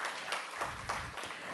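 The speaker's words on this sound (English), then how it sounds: "that deserves a round of applause." An audience at a book launch applauds, a brief, moderately faint patter of many hands clapping in irregular bursts.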